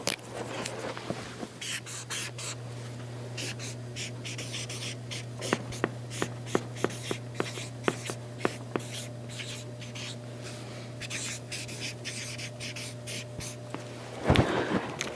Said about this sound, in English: the act of writing and not speaking is what's going on